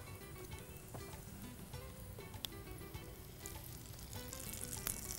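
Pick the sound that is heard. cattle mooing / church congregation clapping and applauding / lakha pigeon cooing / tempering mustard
tempering mustard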